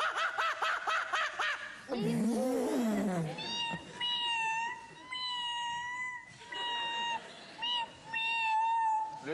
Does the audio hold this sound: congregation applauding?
no